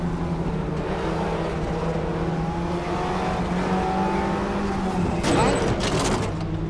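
An Audi race car drones steadily through RaceRoom Racing, its engine holding a continuous high-speed tone that rises slightly near the end, with someone talking over it throughout.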